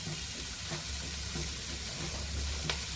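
Sprouted beans for a salad are sautéed in a pan with red chilli powder and salt, producing a steady, close, dense sizzle with faint occasional stirring clicks and no voices.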